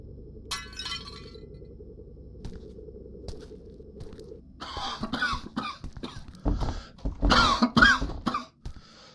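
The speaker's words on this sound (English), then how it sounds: "You keep coughing." Harsh coughs and throat clearing in a horror video game, several rough bursts in quick succession mixed with glassy clinking and breaking noises, close and fairly loud.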